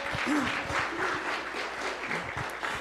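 Audience at a Martin Luther King Jr. Day of Service gathering gives a round of applause for a Delta Sigma Theta chapter president, many hands clapping at a steady moderate level, with a faint voice briefly underneath.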